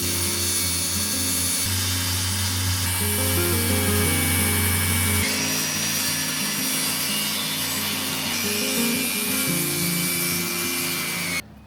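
Power saw cutting an opening into wood for a chicken coop ramp entrance, a steady loud grinding whine that runs continuously for about eleven seconds, its pitch dropping midway as the blade loads, then stops abruptly at the end.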